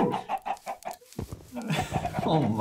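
Chickens clucking in the Minecraft video game, a quick rhythmic series of clucks followed by more scattered bird calls, with a person talking over the second half.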